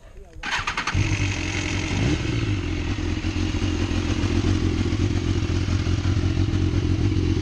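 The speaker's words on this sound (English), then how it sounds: "Let's start him up" A 2012 BMW S1000RR sport bike in Fire Blue is started: a brief starter whir and thump, then the engine catches and settles into a loud, steady, close idle that holds to the end.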